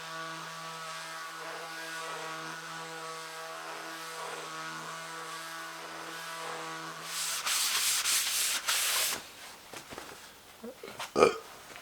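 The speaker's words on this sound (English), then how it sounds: "now I'm going to take some sandpaper and just clean it up a little bit" Sandpaper rubbed over a guitar body during a custom build, a burst of close scratchy rasping strokes that starts partway through after steady background hum, ending with a few sharper scrapes.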